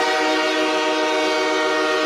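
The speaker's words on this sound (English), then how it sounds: "Give him the train noise." Train horn sound effect played on a sports talk show, a single loud, sustained multi-tone blast held for about two seconds, alone with no talking over it.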